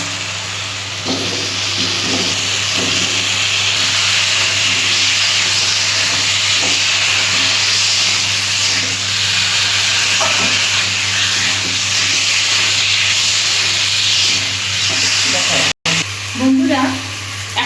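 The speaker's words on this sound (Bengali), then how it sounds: "মশলা থেকে তেল ছাড়তে শুরু করেছে, এবার আমি গাজর আর আলুটা দিয়ে দেব।" Carrots and potatoes frying in spiced oil for a cauliflower, potato and fish curry: a loud, continuous hiss and sizzle with occasional stirring scrapes, close up, with a steady low hum underneath and a brief break near the end.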